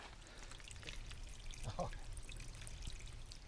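Creek water trickling at a trail water source at Greasy Creek Gap, a soft steady pouring and dribbling that stays faint and continuous, with a slightly brighter splash in the middle.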